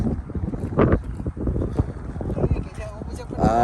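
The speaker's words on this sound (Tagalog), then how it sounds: "Kusog ang hangin." Strong wind buffets the microphone in rough gusts, with boat and water noise beneath and a voice speaking briefly near the end.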